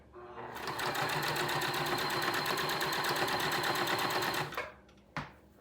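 A sewing machine stitches fabric in a fast, steady mechanical rattle of rapid needle strokes for about four seconds, then stops, followed by a soft clunk and a moment of quiet.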